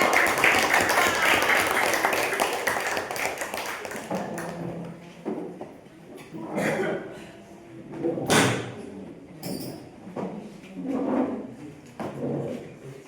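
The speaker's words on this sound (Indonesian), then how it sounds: "Beri tepuk tangan untuk kelompok 3." A classroom of students applauds a student group in a dense burst of clapping that lasts about four seconds, then fades into scattered taps, knocks and a teacher's talking.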